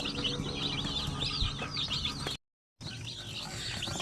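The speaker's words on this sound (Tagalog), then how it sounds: "Ito, bali pangatlong sisiw na natin ito galing sa incubator." Newly hatched shamo aseel native chicks from an incubator peep in quick, high, repeated chirps, fairly close, with a brief dropout of sound partway through.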